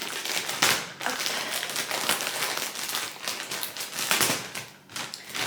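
A vintage parcel being opened, with steady close crinkling and rustling of packaging and a few sharper tearing bursts, fairly loud throughout.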